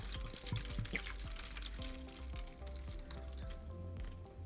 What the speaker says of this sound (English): I'm gonna go in from the bottom and I'm gonna pour water down underneath